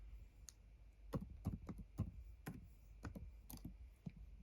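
Quiet computer keyboard typing, a series of soft irregular clicks in short bursts, close and fairly faint with no talking.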